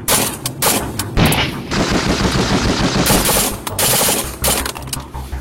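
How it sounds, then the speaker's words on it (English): An FN P90 submachine gun fires full auto in long, rapid bursts of closely packed, loud reports with only brief pauses between strings. "You can pretty much run this in full auto all the time."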